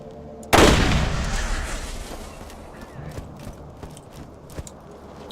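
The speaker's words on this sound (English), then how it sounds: "Sounds like some kind of SMG. Maybe it's an anarchy." Gunfire in the video game Borderlands, likely an SMG: a single loud, sharp blast whose noisy tail fades over several seconds, followed by a few faint scattered pops.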